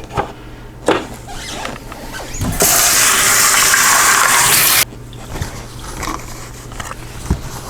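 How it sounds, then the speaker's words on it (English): Eggs are rinsed under a running kitchen tap, a loud steady gush of water lasting about two seconds, framed by light handling clatter before and after. "But first I'm going to rinse these off, wash them up good, wash and dry them."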